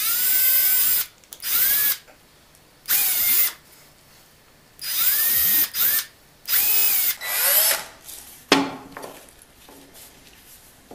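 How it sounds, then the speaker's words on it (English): A power drill with a number 43 bit drills tap holes for a 4-40 tap in organ parts, whirring in several short bursts separated by pauses, close and loud, with light clicks and a clatter near the end. "Now I redrill these with a number 43."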